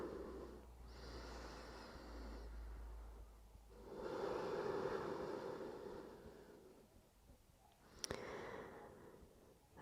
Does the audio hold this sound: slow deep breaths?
yes